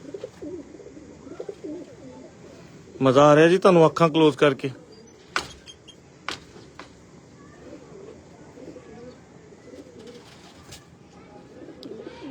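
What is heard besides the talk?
Jonsire breed pigeons cooing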